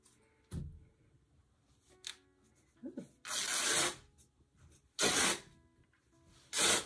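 Scissors cut through thrift-store fabric being made into a dining table runner, heard as a few brief snips and longer rasping cutting strokes in a quiet room.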